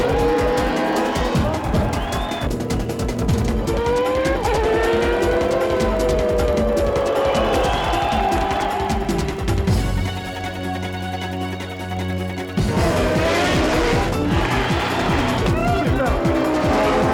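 A Renault Formula 1 race car screams past at high revs, engine pitch sweeping up and down through gear changes, with a brief quieter lull midway before the loud howl returns; a voice narrates over it.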